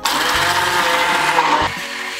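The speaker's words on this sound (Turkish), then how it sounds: "Sonra da blender yardımıyla iyice parçalıyorum." A blender whirs loudly and steadily, pulverizing yogurt and hard-boiled egg whites for a peach protein shake, its motor pitch dropping slightly near the end.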